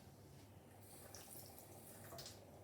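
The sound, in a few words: dampening hands with water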